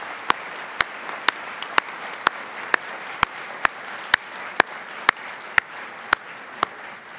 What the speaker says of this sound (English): let us all warmly applaud the group that we have here today